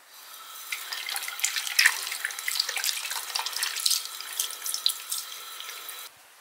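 Water runs steadily from a bathroom sink tap while hands are washed, a bright splashing stream with small irregular spatters for about six seconds before it cuts off abruptly.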